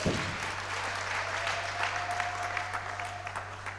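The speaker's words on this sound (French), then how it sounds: "on peut applaudir la parole du Seigneur." A church congregation applauds during a sermon on deliverance, a sustained, moderately faint patter of clapping over a low steady hum, with a brief tone running through the middle.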